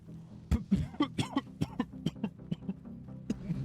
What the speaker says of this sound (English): Sorry for coughing in people's ears.